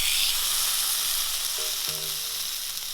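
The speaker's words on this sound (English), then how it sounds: "Now I'm just gonna fry up a sirloin steak for Oreo as well to go in her beef broth." A sirloin steak frying in a pan, giving a loud, steady hiss and crackle close by with no talking.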